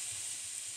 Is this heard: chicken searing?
yes